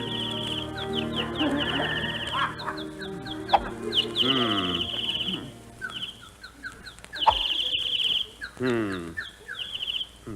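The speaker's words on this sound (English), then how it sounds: "Darn those birds. I wish they'd stop singing." Bird-song sound effect in a 1942 radio comedy, set during a golf game: loud, busy chirping and warbling calls that run continuously in overlapping bursts with no pauses.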